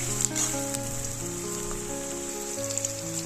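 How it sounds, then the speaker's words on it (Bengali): Sliced onions and green chillies frying in hot oil in a kadai on a gas stove, a continuous close crackling sizzle with scattered pops over a low steady hum, no voices. "পেঁয়াজটা একটু লাল লাল করে ভাজা করে নেবো প্রথমে আমি"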